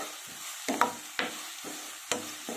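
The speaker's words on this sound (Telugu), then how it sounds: "ఇవి బాగా ఫ్రై అవ్వాలి" Salted potatoes fry in a pan for a potato and peas curry, with a soft sizzle broken by rhythmic spatula scrapes every half second or so, close and fairly quiet, with no talking.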